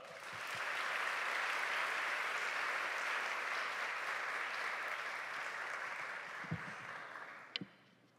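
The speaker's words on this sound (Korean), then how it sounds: "다 함께 액츠브릿지의 박수로 환영하도록 하겠습니다" A church congregation at a young adults' Sunday service claps steadily and loudly for several seconds, the applause fading slightly toward the end with a few scattered bumps.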